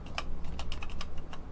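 Keys clack on the parallel ASCII keyboard of a SWTPC CT-1024 computer terminal kit, about a dozen close, irregular keystrokes with no talking.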